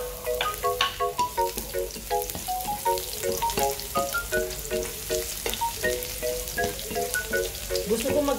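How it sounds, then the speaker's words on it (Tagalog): Garlic frying in a pan for fried rice, a busy crackling sizzle with rhythmic clinks and scrapes of stirring, close and continuous without speech. "Gusto ko magiging brown yung bawang. Ayoko yung hindi naluto yung bawang."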